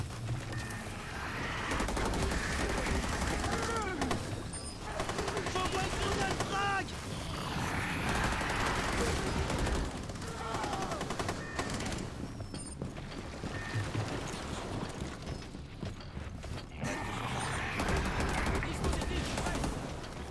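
Rapid gunfire in Rainbow Six Extraction, recurring bursts of sharp shots and crackling over a constant rumble of game noise, with someone talking in between.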